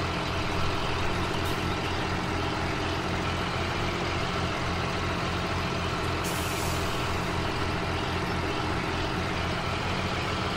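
A truck in Farming Simulator 17 hauling two empty trailers, its engine droning steadily and loud throughout with a brief hiss of air brakes, no talking.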